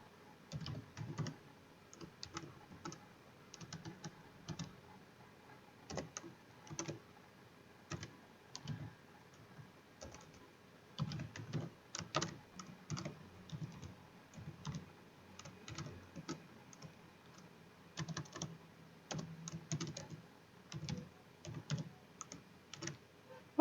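Keystrokes on a computer keyboard while HTML code is typed into Notepad, a steady patter of quiet clicks in uneven bursts and short pauses, with no voices.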